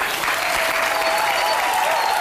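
A studio audience on a televised game show bursts into loud, dense applause that stays sustained and even throughout, with a faint tonal hum running underneath.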